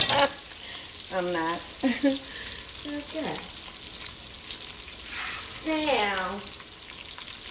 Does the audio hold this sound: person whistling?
no